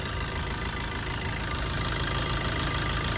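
A Tata Zest XT diesel car engine idling steadily, a loud, even, close rumble with a faint rapid diesel clatter, unchanging for the whole stretch with no voices.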